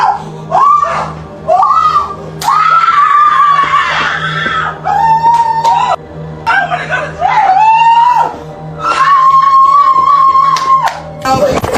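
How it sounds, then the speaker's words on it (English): Children scream and wail in loud, close, repeated high-pitched bursts during a shooting in a home, with brief breaks between cries. "Children screamed."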